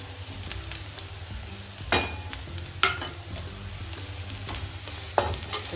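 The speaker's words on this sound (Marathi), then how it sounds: "चांगलं परतून घ्यायचं तेल सुटेपर्यंत" Mutton with red ghati masala fries in oil over onion and tomato, giving a steady close sizzle broken by a few sharper scrapes and knocks as it is stirred.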